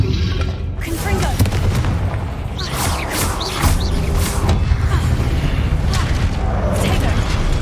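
Spell explosions from the Confringo curse in a Harry Potter video game, heavy booming blasts and rumbling bursts under a dense, continuous game soundscape, with a voice talking over the action.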